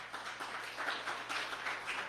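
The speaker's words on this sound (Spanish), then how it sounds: "Denle un aplauso al Señor" A church congregation breaks into steady, broadband applause, a continuous wash of many hands clapping at moderate volume for a couple of seconds with no voices on top.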